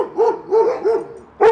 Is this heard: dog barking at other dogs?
yes